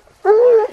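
A hunting dog on a wild boar trail gives a single drawn-out whine or bay lasting under half a second, close and fairly loud, with no talk over it.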